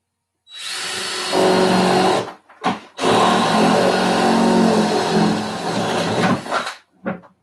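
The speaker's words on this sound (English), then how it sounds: "we're going to drill that with a 3/4 inch drill bit" Power drill boring with a 3/4 inch bit during a robot build: a loud, sustained whine runs for about two seconds, stops briefly, then runs again for nearly four seconds before winding down, followed by a short final burst.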